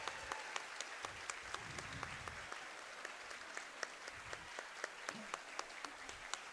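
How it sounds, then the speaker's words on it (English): Audience at a jigsaw puzzle championship opening ceremony claps for volunteers, fairly quiet room applause with a few sharp, distinct nearby claps standing out above the steady patter. "I want everyone to give you a round of applause"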